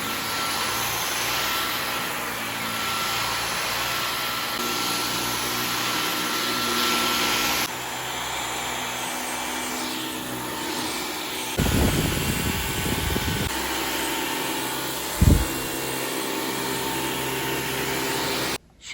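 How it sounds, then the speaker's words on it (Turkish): A Dyson V15 cordless vacuum cleaner whirs steadily on carpet for the whole stretch, its pitch shifting as it moves, with a couple of brief bumps and clatters near the end. "Şimdi evi halıları falan süpüreceğim."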